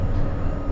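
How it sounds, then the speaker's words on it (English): Steady broadband rumble of a Blackpool tram in motion, heard from on board with a constant low running roar and no clear breaks. "Can't beat it, a ride on the Blackpool Tram."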